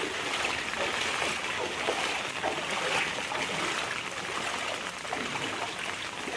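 Floodwater running through a waterlogged village lane, a steady faint rushing wash with no break, heard from close by.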